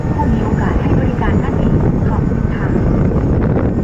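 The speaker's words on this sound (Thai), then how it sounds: "ลมค่อนข้างแรงนะครับ" Strong wind roars against the microphone at a railway junction, a dense, continuous rumble with gusty buffeting throughout.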